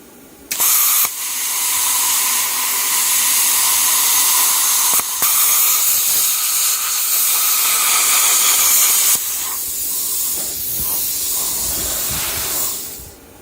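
A plasma cutter slices through a piece of 2000-series aluminium, a loud, steady roaring hiss that starts abruptly, holds for several seconds with brief dips, then drops to a rougher, sputtering tail before cutting off.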